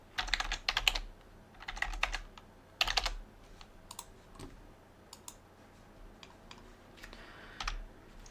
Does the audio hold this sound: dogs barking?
no